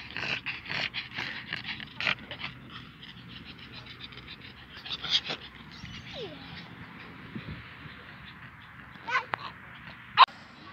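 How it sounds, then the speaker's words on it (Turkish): Several dogs at a dog park in Batıkent, Ankara, pant and snort while they play, with brief yelps and scuffles over a faint outdoor background, occasional sharp sounds and light distant chatter. "Köpek parkında güzel bir gün."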